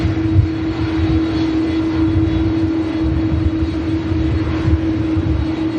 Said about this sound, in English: CF6 powered 330